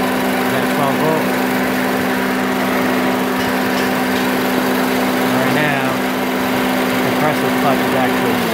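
A Honda Civic engine idles steadily with the A/C compressor clutch spinning, a continuous close mechanical hum with a constant tonal drone, and a voice speaks briefly over it.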